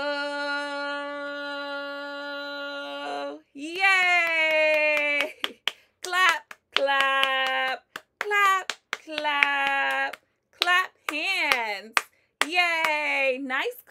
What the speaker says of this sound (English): Nice clapping.